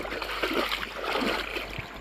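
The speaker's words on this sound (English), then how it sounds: "I carry my kayak through the rapids" Water rushes and splashes steadily through creek rapids as a kayak is carried through them, a continuous churning flow close by with no voices.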